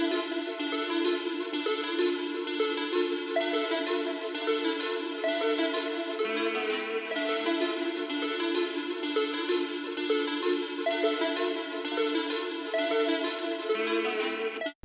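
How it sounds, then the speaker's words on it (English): Bell Clockwork AM synth bell preset from the AF Macri Total Life XP bank plays a repeating melodic pattern with effects, bright metallic tones stepping over a sustained low note, steady and alone without talk. "this sound called Bell Clockwork AM from the AF Macri Total Life"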